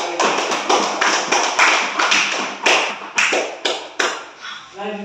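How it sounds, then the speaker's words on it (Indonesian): Classroom applause for a student after a presentation, a series of quick clap bursts with sharp tapping onsets repeating steadily for about five seconds at close range, fading slightly near the end. "tepuk tangan untuk Alexa"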